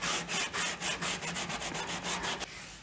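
Hand sanding painted wooden furniture with 220-grit sandpaper makes a rhythmic series of about a dozen close, raspy back-and-forth strokes, speeding up slightly before stopping.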